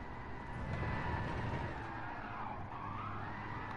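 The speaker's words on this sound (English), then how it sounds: "the engine noises of someone else drifting" A car drifts in the video game Gran Turismo 7, its tires skidding and engine droning in a continuous, moderately loud wash.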